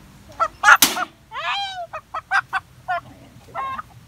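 Backyard native chicken hens, about a year old, give a string of short, loud squawks and clucks nearby, several calls in quick succession with brief gaps between them.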